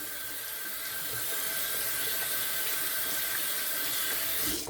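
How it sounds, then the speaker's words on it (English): A bathroom tap runs in a steady rushing stream as lathered hands are rinsed under it, a close, even splashing flow that lasts throughout without speech. "So I'm going to rinse my hands off real quick."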